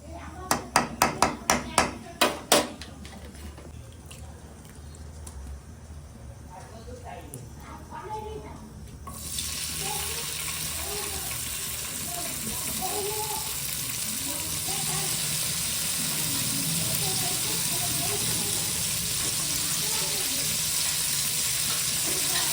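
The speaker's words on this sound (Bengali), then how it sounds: "আরেকবার ঘি দেওয়া হচ্ছে, কাজু কিশমিশ গুলোকে ঘিয়ে ভাজা হবে।" Cashews and raisins fry in hot ghee, a steady loud sizzle taking over after a few sharp knocks and a quieter stretch, continuing evenly to the end.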